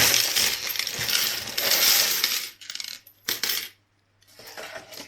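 Loose old coins, including one-cent pieces, clink and jingle as they are handled and shifted, a bright metallic rattle that comes in bursts with short pauses between.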